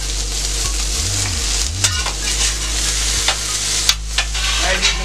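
Potatoes frying in a pan alongside steak and eggs, a steady loud sizzle broken by a couple of scraping flips and utensil clicks, close and alone without talk.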